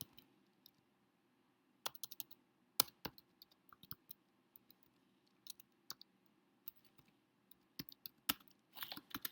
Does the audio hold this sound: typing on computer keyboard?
yes